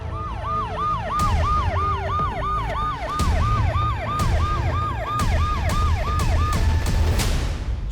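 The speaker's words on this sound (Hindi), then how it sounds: "जो डर था वही हुआ, पुलिस आ गई है।" A police car siren wails in repeated rising-and-falling sweeps, loud and close, with sharp clattering knocks breaking in at intervals and no talking.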